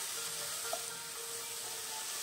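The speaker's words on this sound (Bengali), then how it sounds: "আমি একটু ঢাকা দিয়ে ভাজছিলাম" Chicken pieces for butter chicken fry in a covered pan, giving a steady, close hiss of sizzling oil that stays even and uninterrupted throughout.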